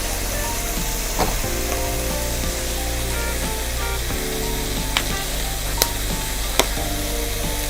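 Food sizzling in a hot pot with lemon pepper salt, a loud steady sizzle with low hum beneath and a few sharp clicks and taps near the end, no talking.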